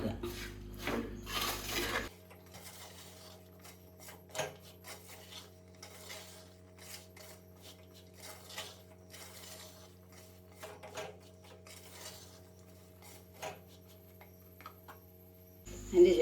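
Mango ginger pickle is stirred in a pan with a spoon, giving soft repeated scraping and rubbing strokes at low volume, with a faint steady hum underneath.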